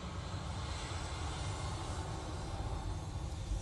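A Ryanair jet bound for Paris takes off at Manchester Airport, its engines producing a continuous, full-bodied roar heavy in low rumble, steady and alone without voices.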